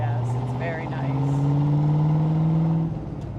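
A 1965 Corvette engine, stolen and found in a barn after ten years, idles steadily with a deep low drone that rises slightly in pitch, while people chat nearby over it.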